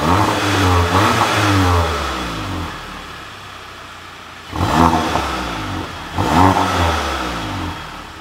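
Skoda Octavia RS engine revving through a newly fitted APR exhaust, three loud close throttle blips with rising and falling engine tone separated by a lower idle, and no talking.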